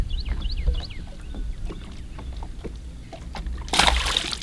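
A released bass drops back into the water, leaving a brief broadband splash near the end amid outdoor lake ambience and small knocks against the boat, with birds chirping early on.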